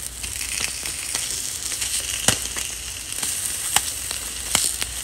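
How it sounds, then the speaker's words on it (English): Steady sizzling of Spam frying in a hot pan, a dense crackling hiss with occasional sharper pops, close and moderately loud. "You see that sizzle?"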